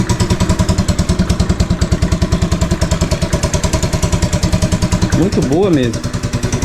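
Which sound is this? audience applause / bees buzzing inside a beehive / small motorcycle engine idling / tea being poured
small motorcycle engine idling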